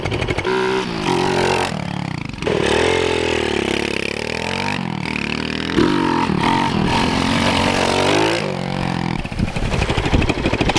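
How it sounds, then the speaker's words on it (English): A modified pit bike fitted with a big bore kit being ridden, its engine revving up and down loudly and close with repeated throttle sweeps and brief gear-change dips. "I'm gonna rip it around a little bit, show you guys"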